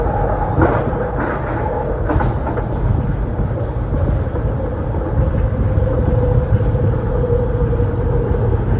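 A Philadelphia Market-Frankford Line train rumbles past close by, a loud continuous roar with metallic squeals and rattling clicks from the wheels on the rails.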